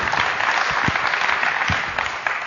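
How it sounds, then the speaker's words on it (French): Sustained crowd applause for a player at a basketball shooting-drills talk, a dense steady wash of many hands clapping at once that holds at a fairly loud level throughout. "On peut l'applaudir"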